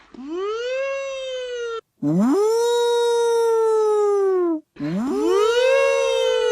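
A wolf lets out three long, wavering howls, each rising then sliding slightly, loud and close with brief pauses between them.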